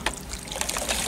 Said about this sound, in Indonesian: Nah itu sungainya tuh, arusnya sangat kenceng Bos.